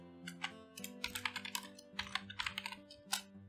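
Typing on a computer keyboard while naming a layer in an Unreal Engine 5 material instance, a quiet, close run of irregular clicky keystrokes in short bursts with brief pauses.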